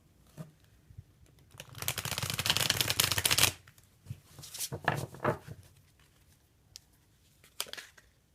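A tarot card deck shuffled up close, with a dense riffling burst followed by shorter slides and taps of the cards.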